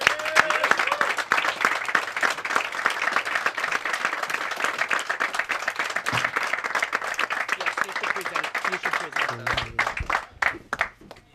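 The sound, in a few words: audience applause for new instructors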